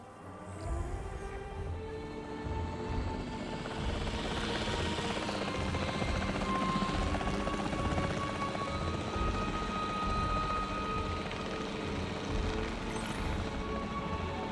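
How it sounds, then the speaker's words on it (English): A capture team helicopter in Jurassic World Evolution 3, its rotor chopping in a continuous rhythmic thrum under layered game ambience, steady and moderately quiet throughout. "The priority needs to be tranquilizing it with the capture team chopper."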